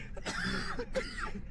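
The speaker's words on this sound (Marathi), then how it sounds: "हो खोकला आला बघ" A person on a nostalgic trek at Raireshwar Fort lets out a short, harsh cough, a couple of rough bursts close to the listener with no talk over them.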